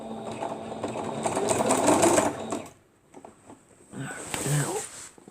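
A sewing machine stitches a handle onto a seat cushion meant for jumper cables, running in a steady, fast mechanical whir for about three seconds, pausing, then starting again in a shorter burst. No one speaks.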